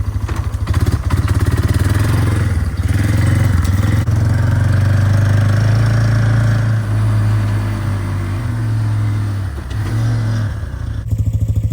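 A 2001 Yamaha BearTracker 250 ATV engine idles steadily while warming up, close by, a constant low rumble with a slight clatter throughout.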